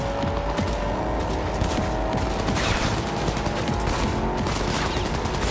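Dense, continuous gunfire in the video game Cyberpunk 2077, a loud rattling fusillade of rapid shots that runs throughout without a break and without talking.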